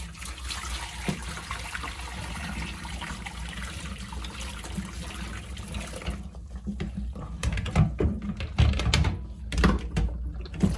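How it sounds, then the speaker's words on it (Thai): Hot water poured out of a pot of freshly cooked lake clams into a sink: a steady splashing stream that breaks into irregular gurgles and splatters near the end, close by and moderately loud. "ตอนนี้เราจะมาเทน้ำออกนะคะ"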